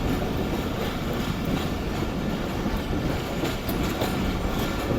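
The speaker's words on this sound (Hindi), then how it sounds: "पूरे 12 बजे ट्रेन हमारी अप्रोच बना रही है लांडी जंक्शन रेलवे स्टेशन पर" The Hazara Express train approaching Landi junction station gives a loud, continuous rattle of wheels and carriages with clickety-clack beats, heard close and alone without voices.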